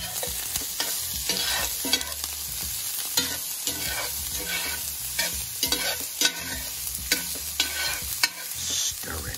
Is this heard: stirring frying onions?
yes